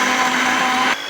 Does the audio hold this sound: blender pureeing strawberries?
yes